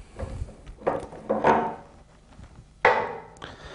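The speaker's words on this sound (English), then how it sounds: "So we'll just take the chuck from the lathe." A handful of solid clunks and knocks as a heavy metal chuck is loosened and lifted off a wood lathe, with quiet pauses between.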